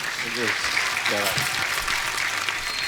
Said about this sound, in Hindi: एक बार सुनिधि, दिव्या जी और संजय जी के लिए जोरदार तालियां हो जाए।